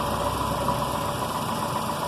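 A car engine idles steadily during a battery and charging test with a Bosch BAT 131 battery tester, giving a continuous, close, even hum with a faint rattling vibration.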